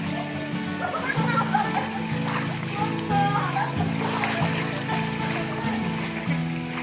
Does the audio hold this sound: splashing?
yes